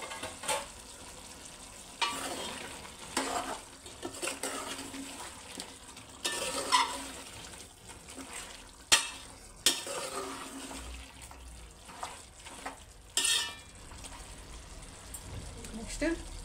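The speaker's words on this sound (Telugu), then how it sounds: "వేసుకొని ఒకసారి కలుపుకుందాం." Chicken curry with fresh mint stirred in a pot, the spoon scraping and clinking against the metal in uneven bursts over a soft sizzle, with a voice talking over it.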